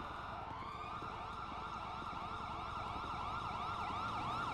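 Police car siren in a roleplay driving video game, a continuous wailing siren rising and falling in repeated sweeps, steady and fairly close with low engine rumble beneath and no talking.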